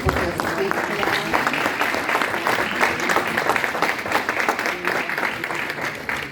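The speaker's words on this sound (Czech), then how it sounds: "Okay, I think Pavel deserves another round of applause." Sustained applause from a sizable conference audience in Prague, dense steady clapping filling the whole stretch at an even loudness with no voices standing out.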